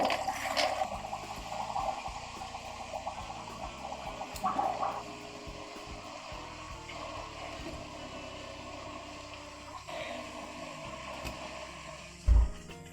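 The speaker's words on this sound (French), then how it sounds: "j'ai pompé 4 fois et là mon filtre est amorcé" An Oase Biomaster 600 external aquarium filter being primed by hand-pumping, with water gurgling and sloshing through the unit, a few mechanical pump clicks and a louder thump near the end.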